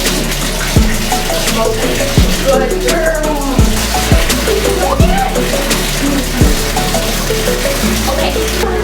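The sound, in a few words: water running while bathing a dog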